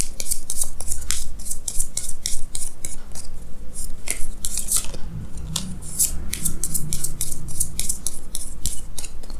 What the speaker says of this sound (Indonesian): sini saya akan tarik lagi 2 kartu tambahan ya